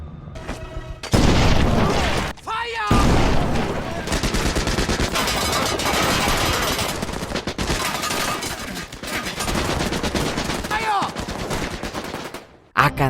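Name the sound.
gunfire sound effects, soldiers shooting at an old man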